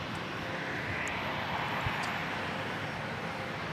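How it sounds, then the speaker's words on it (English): A Bombardier Challenger 350 business jet lands at Dallas Love Field, its engines a steady, moderately distant roar with a broad wash of noise and no one talking. "Got a Bombardier Challenger 350 coming in from El Paso, Texas."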